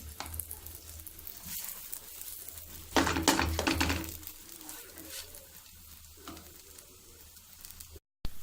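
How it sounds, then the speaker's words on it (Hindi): A veg frankie (kathi) roll fries in oil on a hot pan, giving a steady close sizzle with a louder crackling burst partway through and light utensil clinks. "इसको हमें अच्छे से फ्राई करना है।"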